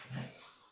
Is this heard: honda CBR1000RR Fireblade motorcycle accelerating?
no